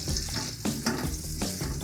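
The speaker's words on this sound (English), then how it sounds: "you can hear that sizzle and that smell is really popping now" Food marinated in garlic sizzles and crackles in a hot frying pan, a steady close-up frying hiss with a few soft stirring scrapes.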